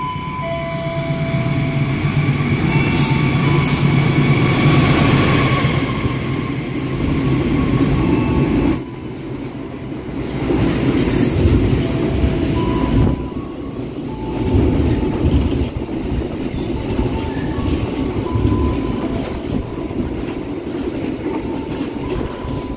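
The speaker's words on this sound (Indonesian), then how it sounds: "Kereta api barang kontainer sudah melintas langsung stasiun Midland Telaga Murni." A freight container train passes straight through Midland Telaga Murni station at speed, a loud continuous roar of wheels and wagons with rhythmic clattering and squealing, close by and sustained throughout, with no talking.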